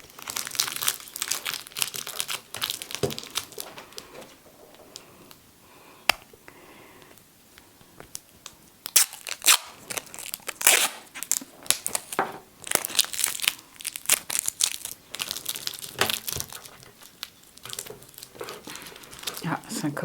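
Adhesive tape being crumpled by hand to add relief to a printing plate, a close series of crinkling and crackling bursts spread unevenly over twenty seconds, with quiet speech in the background.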